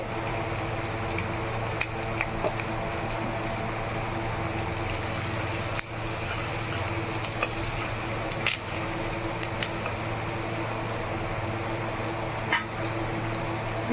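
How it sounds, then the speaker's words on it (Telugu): Onions sizzle in hot oil with turmeric for a Telangana-style Gutti Vankaya curry, a steady soft crackling hiss with a faint low hum and occasional small pops. "కొంచెం ఉల్లిపాయ వేగిన తర్వాత"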